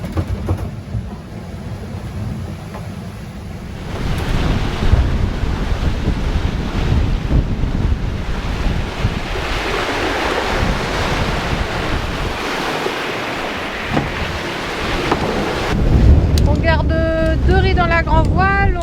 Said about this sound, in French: la mer s'est levée, on a de la vague